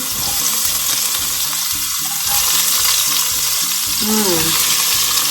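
Loud, steady sizzling of celery and carrot frying in hot olive oil, a dense crackling hiss throughout, with faint clinks and a brief voice-like sound beneath.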